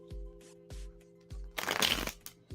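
Tarot cards being shuffled by hand, several short riffling bursts with brief pauses, then a longer dense run of snapping card noise, close and clear with no talking.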